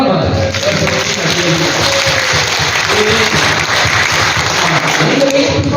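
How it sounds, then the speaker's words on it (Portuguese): A congregation at a chapel novena applauds loudly and continuously, with voices and talk mixed in over the clapping throughout. "Uma salva de palmas."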